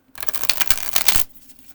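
Thin, flexible Star Trek tarot cards are riffled and shuffled in one quick, crisp burst of papery flutter lasting about a second, close and alone.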